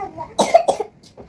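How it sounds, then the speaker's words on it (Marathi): A child coughs indoors, a short, close burst of two or three dry coughs followed by a fainter catch of breath. "हा खोकला येतोय"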